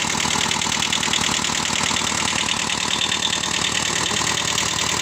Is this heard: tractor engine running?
yes